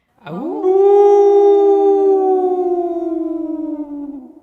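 A group of people imitates wolves howling together: one long, loud, sustained sliding howl that starts low, rises, then slowly sags and wavers, heard alone.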